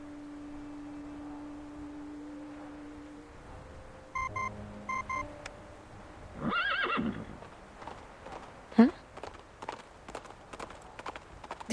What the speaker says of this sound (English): The communicator's noise startles the nibbling horse. It lifts its head and bolts into the distance.